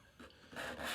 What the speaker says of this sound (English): you can hear it rubbing over the washboard surface that I'm still having here